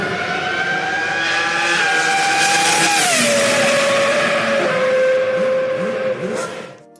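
A Formula 1 V10 racing car engine rated at 805 brake horsepower screams at high RPM, passing close by with a steady, loud, piercing whine that drops in pitch as it goes past, then fades away.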